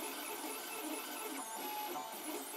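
A 3D printer prints a hole in a pin dowel, giving off continuous, close, buzzy stepper-motor whines that warble in pitch as the head moves, with no talking.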